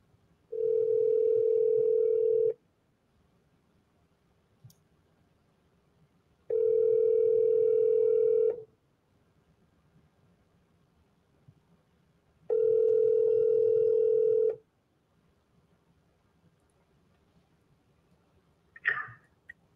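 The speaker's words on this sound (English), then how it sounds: "I'll dial it again real quick, but that was a long ring." An outgoing telephone call ringing: three evenly spaced two-second ring tones separated by about four seconds of quiet, followed by a faint click at the end.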